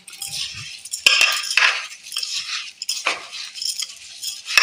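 Food being mixed by hand with white cooking oil in a dish, with wet squelching, scraping and occasional clinks of the dish, irregular bursts close by, no talking.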